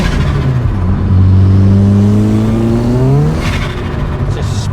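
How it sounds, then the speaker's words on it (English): A Saab-engined Vauxhall Corsa B revs hard up through rising engine pitch with wheelspin, then the dump valve releases as the revs drop, all loud and close. "Sounds nice though, I like the dump valve and that."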